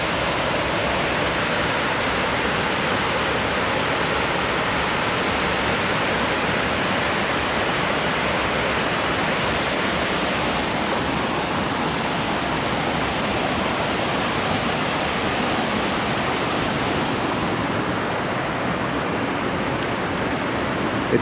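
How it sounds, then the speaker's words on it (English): Water cascades down a waterfall inside a narrow slot-canyon gorge, a steady, full-bodied rushing roar that fills the space evenly and continuously, heard alone. "Cool waterfall here."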